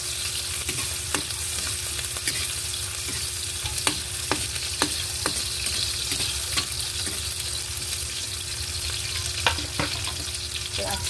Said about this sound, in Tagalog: mikos-mikos lang natin yun guys. Ang ating luya.